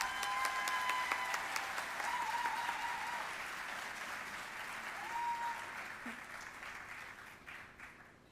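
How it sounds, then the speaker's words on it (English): An audience at an awards celebration of excellence gives a round of applause, a soft, fairly distant wash of clapping that swells slightly midway and gradually thins toward the end. "Let's give them another round of applause."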